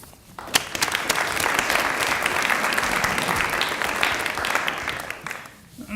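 An audience at a University of Dubuque presentation event claps steadily for several seconds, a dense, even wave of applause that swells and then tapers off.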